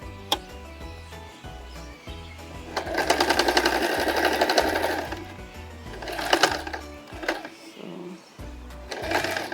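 A sewing machine sewing a straight stitch to close an opening in fabric, with two short bursts of rapid stitching among quieter handling noises and clicks.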